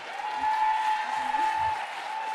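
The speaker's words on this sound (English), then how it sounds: "can we have one more round of applause for Caitlyn?" An audience at a Welsh talent show grand finale gives a steady round of applause for a runner-up, with a voice faintly audible beneath the clapping.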